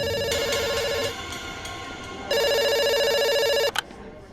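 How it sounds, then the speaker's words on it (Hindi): A telephone rings at a pizza shop in two long bursts of bright electronic trilling separated by a short pause, loud and clear with no talking. "हमारा काम फोन को घूरना नहीं, फोन उठा के ऑर्डर लेना।"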